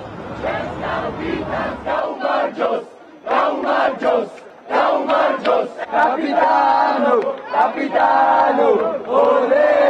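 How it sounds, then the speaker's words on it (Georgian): Football fans outside the Radisson hotel shout greetings and chants at arriving players, a loud crowd of overlapping voices in rhythmic bursts, close and continuous. "რედისონთან ფეხბურთელებს გულშემატკივრები შეძახილებით დახვდნენ"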